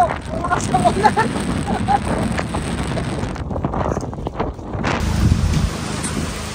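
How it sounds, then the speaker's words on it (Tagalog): Heavy rain and gusting wind on the coast at Balabac, Palawan, making a dense, steady roar with wind buffeting the microphone, a brief lull near the middle before it surges back loud. "Lakas na ulan, guys."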